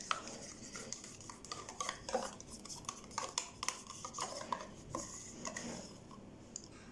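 Blended fruit yogurt goes into a lumpy homemade cake batter for an afternoon snack cake, with soft close scraping and spoon clinks against a bowl in irregular bursts, and no voices.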